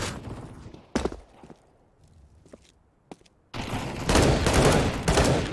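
Gunfire from a competitive first-person shooter match, with scattered single shots and footsteps before a sustained loud burst of rapid automatic fire takes over in the second half.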